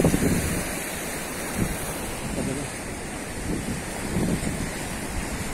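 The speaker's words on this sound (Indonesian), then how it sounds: "Ini ujung Pantai Watu Nene. Ini dari ujung nih, sepi pantainya." Ocean surf rolls at quiet Watu Nene beach in Gunungkidul, a continuous wash of waves with gusts of wind buffeting the microphone, fairly loud and without talk.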